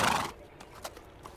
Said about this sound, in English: The horse heads back into the wild